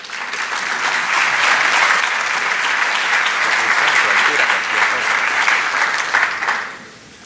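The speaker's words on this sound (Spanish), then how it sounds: "Recibimos a la señora Susana Arauz Rodríguez con un fuerte aplauso." Sustained applause from a congress audience welcoming a speaker to the podium, dense and steady for about six seconds before quickly fading out.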